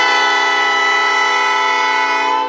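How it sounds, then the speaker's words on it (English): A loud, sustained train horn blares in a south suburban town, its steady multi-tone chord holding for over two seconds before starting to fade, with a faint low rumble beneath and no voices. "Usually the trains are the loudest noise in South suburban Dalton"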